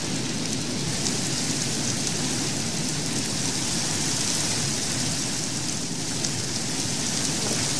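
Steady, unbroken rain hiss from the Minecraft modpack Enigmatica 2, a dense even wash of falling-rain noise that holds at constant loudness throughout.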